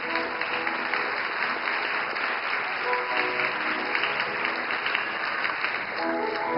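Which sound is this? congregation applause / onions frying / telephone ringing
congregation applause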